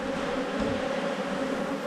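Dense, steady buzzing of honey bees crowded on a hive frame, loud and close, a continuous droning hum with no voices.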